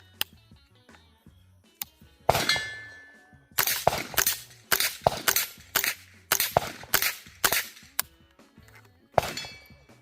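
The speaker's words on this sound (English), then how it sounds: "But let's put some more rounds downrange." A .22 rifle fitted with a HUXWRX Flow 22 Ti suppressor fires subsonic Federal Auto Match rounds in a quick, uneven string of about a dozen sharp, close reports, each followed by a short metallic ring.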